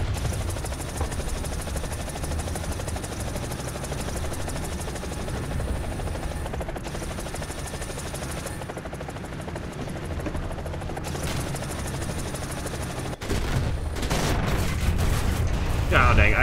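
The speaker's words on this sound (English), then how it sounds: "Plane coming." An aircraft drones steadily in a video game, a loud, continuous engine roar that runs throughout and swells near the end, with a brief break partway through.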